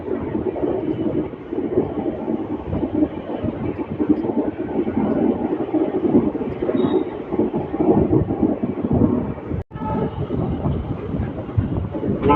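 The Hubballi Express (17320) rolls into Lingampalli station with a loud, continuous rumble and rattle of wheels and carriages, broken by one brief dropout near the end.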